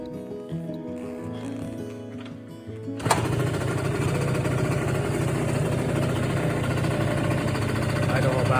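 A Yamaha RX50 two-stroke motorcycle engine, with a cleaned petcock, new fuel line and new fuel filter, fires up after a few seconds of low rumbling and settles into a steady, loud, close buzzing idle.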